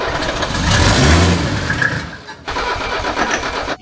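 The starter on a swapped engine in a 1978 Mercedes 300CD cranks with a close, loud churning whir, stops briefly, then cranks again in a second burst.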